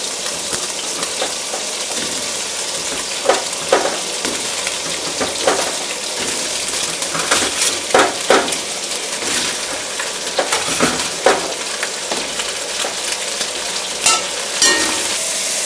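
Leeks frying in a pan for lamprey à la Bordelaise, a loud continuous sizzle and crackle throughout, with occasional scrapes and clinks of stirring, no talk.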